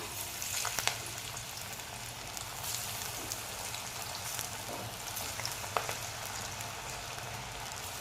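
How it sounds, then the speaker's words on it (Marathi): Dal vadas deep frying in very hot oil give a constant low crackling sizzle, fairly quiet, with a couple of sharper pops. "आपलं तेल एकदम कडकडीत गरम झालं आहे आता आपण वडे टाकूया"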